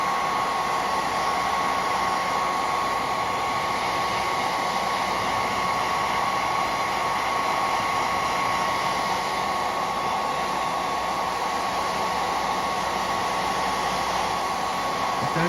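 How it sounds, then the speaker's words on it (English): Steady airy blowing of a hair dryer on low, an even whoosh with a slight motor whine that holds unchanged throughout. "So it says put the hairdryer on low."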